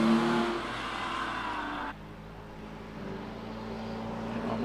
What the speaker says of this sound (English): The livery 911 moves its way up the hill.